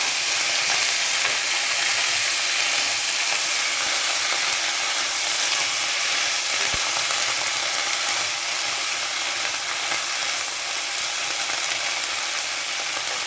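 Cauliflower florets sizzling and frying in a hot pan as they are stirred, a dense, steady hiss that stays loud and close for the whole stretch with no talking.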